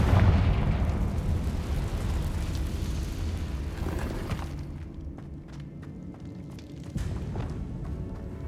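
A Confringo blasting curse explodes in Hogwarts Legacy, a loud, rumbling blast that fills the first half and fades into a low echoing rumble, with a smaller thud near the end.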